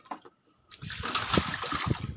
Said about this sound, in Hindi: उसके बाद हम करते हैं पानी से आसपास का जो एरिया है वो साफ गमलों के